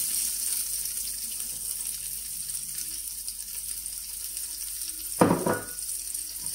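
Steady, soft sizzling of food frying in a pan, with a louder burst of hissing and clatter near the end as sliced onion is added.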